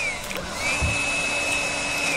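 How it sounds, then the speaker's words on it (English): A vacuum cleaner tool in a Minecraft-style Teardown game gives off a steady electric whine with a constant hum underneath, holding level for about two seconds, with no speech. "I also have a vacuum cleaner."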